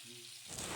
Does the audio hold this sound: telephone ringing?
no